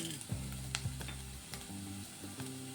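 Curry leaves and chana dal frying in hot oil give a steady, close sizzle with a few sharp crackles and stirring scrapes, over low sustained tones.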